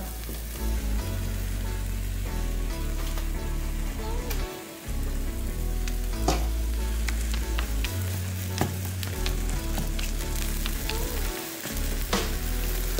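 An omelette with chocolate added frying in a pan makes a continuous crackling sizzle with a low background hum and a few sharp clicks.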